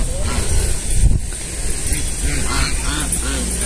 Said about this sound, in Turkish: Bunlar kaz değil mi ikisi?